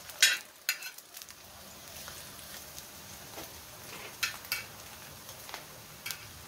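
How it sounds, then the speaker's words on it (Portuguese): Thin banana slices frying in a pan for caramelized fried banana with cinnamon and sugar, a faint, steady sizzle with a few light utensil taps and scrapes, quiet and close. "aqui você vai fritar do jeito que você quiser."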